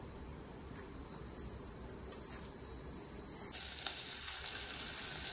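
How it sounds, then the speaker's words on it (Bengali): Fish frying in a pan, a steady close hiss of sizzling oil with faint crackles and a few small pops near the end, no talking. "মাছটাকে ভেজে নিই"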